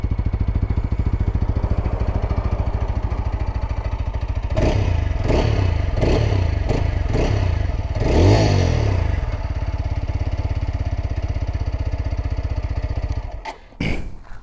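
A TVS Apache RTR 200 4V motorcycle with a twin-barrel exhaust idles with a steady close thump, then gets several quick throttle blips in the middle before settling back to idle and cutting off near the end.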